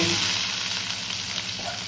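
Small shallots sizzle and fry in about a spoon and a half of hot ghee while cooking green chilli chicken, a steady close hiss with faint stirring and no talking.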